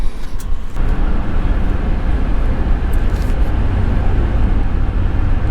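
A Harley-Davidson Revival motorcycle is ridden, its engine a loud, continuous rumbling drone with steady road noise and no talk.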